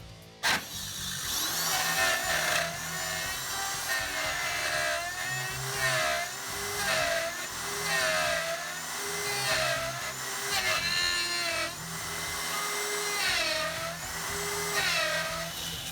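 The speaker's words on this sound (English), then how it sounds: "I have a new flush cut bit that's actually 1 inch long. I needed that to open these cavities up" Router fitted with a one-inch flush cut bit cutting out the cavities of a homemade electric guitar body, a high whining buzz that rises and falls repeatedly as the bit bites into the wood.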